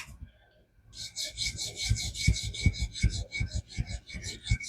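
An EDC knife blade rasps against a Ruixin resin bonded diamond sharpening stone in quick rhythmic scraping strokes, close and crisp, starting after a brief quiet moment and continuing steadily.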